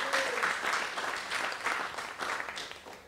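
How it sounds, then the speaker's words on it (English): Applause at a book launch for a former parish priest, an even, fairly faint wash of clapping from a seated audience continuing throughout. "A round of applause for Father Central."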